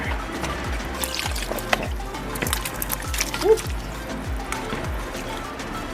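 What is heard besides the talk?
pouring provisions and corn with their liquid into soup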